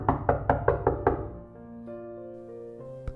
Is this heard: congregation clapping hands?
no